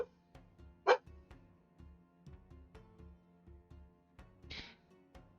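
A dog barks indoors, two short sharp barks spaced a few seconds apart, faint and set against a quiet room with light tapping.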